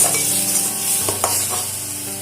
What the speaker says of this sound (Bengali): এবারে বারে বারে নাড়াচাড়া করে এটাকে কিছুক্ষণ রান্না করে নেব